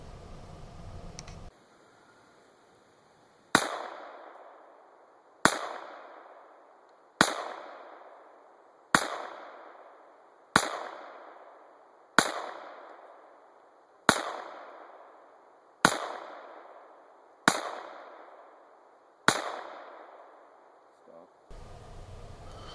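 A Sig Sauer P226 .22LR pistol fired outdoors at a range lets off eleven sharp, evenly spaced shots about every two seconds, each crack followed by a short decaying echo.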